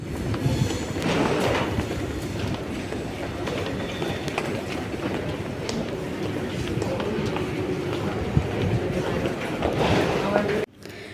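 A passenger train ride, not a metro, filling the carriage with a loud, steady rumble and rattle of wheels on track that runs unbroken until a sudden cut near the end.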